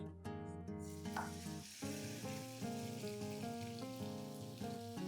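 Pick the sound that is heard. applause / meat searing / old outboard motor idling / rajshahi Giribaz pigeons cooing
meat searing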